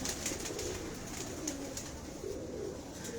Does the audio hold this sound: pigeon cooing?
yes